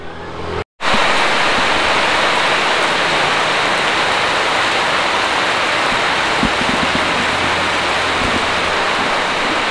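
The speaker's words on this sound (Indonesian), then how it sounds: "Hujan gede banget hujannya" Heavy rain pours down on a hilly road in Sumedang during a bicycle ride, a loud, dense and unbroken hiss after a brief moment of silence at the start.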